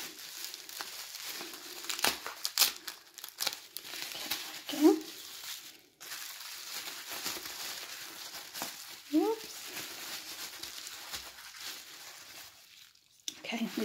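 Taped cardboard packaging of a Breyer Stablemates model horse is pulled open in a quiet room, with steady close crinkling, a few sharp tearing rips near five and nine seconds, and faint speech in the background.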